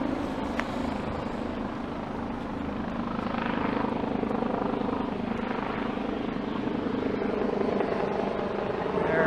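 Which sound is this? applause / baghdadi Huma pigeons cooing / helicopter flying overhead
helicopter flying overhead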